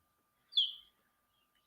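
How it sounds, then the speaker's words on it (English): A chicken lets out a single short, high panic chirp from a backyard flock, fairly close and otherwise surrounded by near silence, with a brief sharp sound cutting in at the very end. "There's the panic mode chirp."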